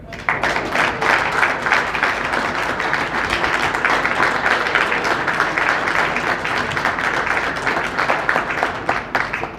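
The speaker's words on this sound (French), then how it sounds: "il m'a dit que les applaudissements ne sont pas suffisants" A large audience applauding at an official gathering, sustained dense clapping that holds steady for several seconds.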